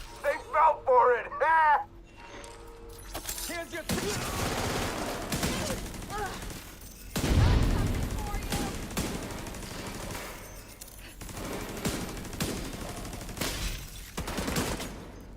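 Rapid bursts of light machine gun fire in The Division 2, a third-person shooter, with repeated volleys and heavy impacts spread across the scene, mixed with in-game effects and occasional talk.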